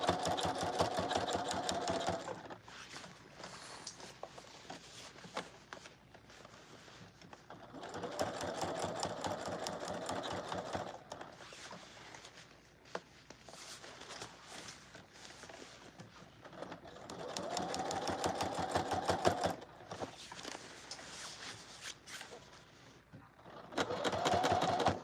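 Sewing machine top stitching a puffer jacket purse, quiet rapid mechanical whirring in several bursts of a few seconds each, separated by brief pauses.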